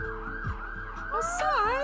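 Emergency vehicle siren wailing over street ambience in an American city, its pitch sweeping up and down and growing louder toward the end of the short stretch.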